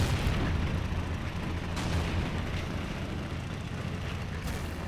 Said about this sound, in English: Oh, shells landing close.